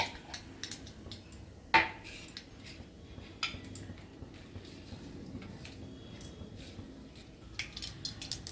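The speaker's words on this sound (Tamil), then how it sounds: "கடுகு முதல்ல கொஞ்சமாக போட்டுக்கணும்." Small crackles and taps of mustard seeds dropped into a pan for tempering, with scattered light pops and a metallic clink against cookware, close and fairly faint.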